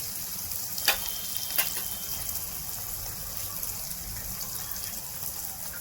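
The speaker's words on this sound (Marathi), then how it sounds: "हे जे मिश्रण आहे ते व्यवस्थित चांगलं तेलामध्ये परतून घेतल्यानंतर खाली लागू नये म्हणून असे थोडं वेळाने हलवत राहायचे." A masala mixture fries in oil for dhaba-style green moong curry, giving a constant close hiss and sizzle with two brief sharp clinks from stirring.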